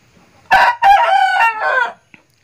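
A rooster crows nearby, one loud drawn-out call with a brief break near the start, followed by a short faint cluck.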